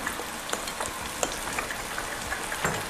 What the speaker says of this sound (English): as you can hear that pan, the bananas are sizzling right now